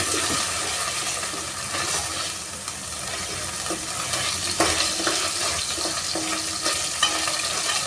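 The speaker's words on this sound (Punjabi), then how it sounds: "ਚੰਗੇ ਤਰੀਕੇ ਨਾਲ ਭੁੰਨਾਂਗੇ ਜੀ ਇਹਨੂੰ ਆਪਾਂ ਕੱਚਾ ਨਹੀਂ ਛੱਡਣਾ" Spices and ingredients for a spicy, tangy momos chutney roast and fry in a pan, giving a steady, fairly loud sizzle with occasional scraping and light clinks of stirring throughout.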